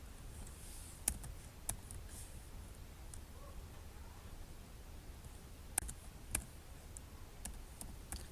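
Keystrokes on a computer keyboard while entering text into an MS Excel spreadsheet: quiet, sparse clicks with a few sharper taps, close by over a soft background hiss.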